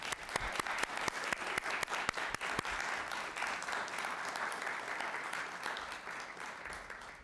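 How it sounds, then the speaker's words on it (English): Audience at a League of Women Voters school board candidate forum clapping in a warm round of applause, sharp distinct claps at first that blend into a steady wash and continue for several seconds. "invite the audience to join me in a warm round of applause in appreciation for those participating this evening"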